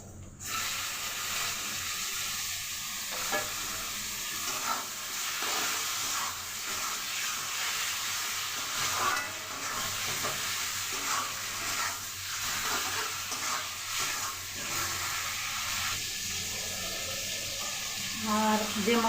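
Chicken frying in a pan for South Indian garlic roast chicken with turmeric and salt, a steady close sizzle and hiss lasting throughout, with occasional stirring scrapes and faint speech in the background.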